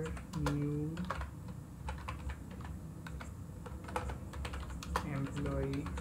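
Rapid clicking keystrokes on a computer keyboard as code is entered, close and fairly quiet, in uneven bursts with a person speaking over them.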